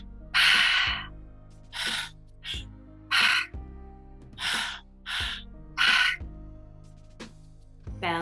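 Deep breaths during a guided breathing exercise: a series of loud, close inhales and exhales comes in a slow, uneven rhythm over a soft sustained musical drone.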